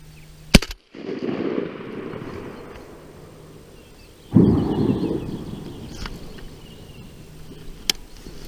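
Shotgun fired during a spring duck hunt to finish off a wounded duck: a sharp report near the start, then a second loud blast a few seconds later, both echoing outdoors with no talk.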